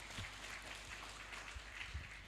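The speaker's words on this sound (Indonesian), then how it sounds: "Tepuk tangan untuk beliau." Audience applause for Dr. Sayyid Tariq Al-Hasani at an istighotsah prayer gathering, a soft, steady patter of clapping filling the hall with no voices over it.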